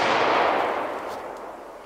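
A single sharp gunshot from a handgun fired outdoors at close range, followed by a brief decaying echo.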